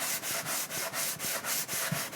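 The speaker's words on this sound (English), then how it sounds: "a worn down 120 grit on the random orbital" Steady abrasive rubbing of a random orbital sander running a worn 120-grit disc over wood, a continuous close hiss pulsing in even strokes about every quarter second.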